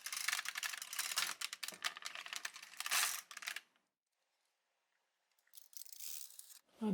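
An LK150 knitting machine carriage slides back across the needles, a dense rattling clatter for about three and a half seconds, then silence before a shorter burst of scraping clicks near the end, close and without talk.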